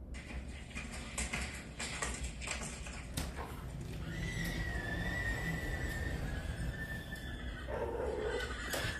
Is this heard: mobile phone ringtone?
no